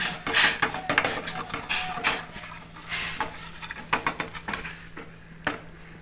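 Rice flour being stirred into hot water in a metal pot, with a drop of oil added, for muddi chapati: a close run of scraping and clinking from the utensil against the pot, irregular and busy at first, then easing off.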